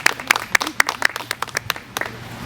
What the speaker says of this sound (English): Another round of applause for our mayor.